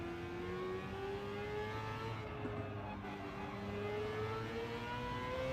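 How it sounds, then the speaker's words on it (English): A race car engine in a racing video game on the Trial Mountain track, a steady whining drone that climbs slowly in pitch as it accelerates, fairly faint and continuous with no speech. "The engine is loud."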